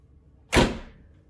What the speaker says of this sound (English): Shut the door, let the oven do the rest.